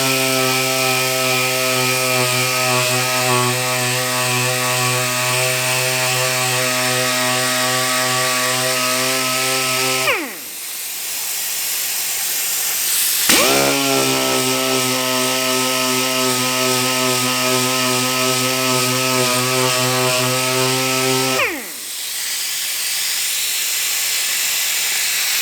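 A power sander with 80-grit paper works big scratches out of a plastic fender. A steady motor whine with a hissy rasp runs throughout and cuts out briefly twice before starting again.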